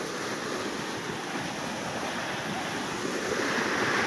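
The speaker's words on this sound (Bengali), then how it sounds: "সুলিশ তোলার কারণে সব জল কিন্তু বেরিয়ে চলে যাচ্ছে একদম" Water rushes out through a fully raised sluice gate in the Sundarbans, a steady broadband roar of churning flow that stays loud and constant throughout, with some wind noise over the microphone.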